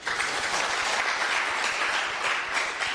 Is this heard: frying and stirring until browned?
no